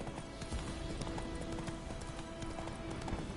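Horse hooves clip-clop steadily in The Witcher 3 as the mount trots along, a continuous rhythmic patter of hoofbeats over game ambience with faint tonal music.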